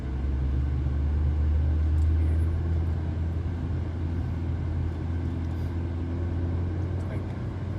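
A manual car engine hums low and steady from inside the cabin while the driver shifts down from third to second gear, the rumble swelling slightly and then settling.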